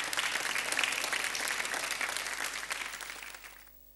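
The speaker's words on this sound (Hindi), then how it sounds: "जोरदार तालियों के साथ" Studio audience on an Indian TV game show for housewives bursts into dense, steady applause that stays strong, then fades out near the end; no talking over it.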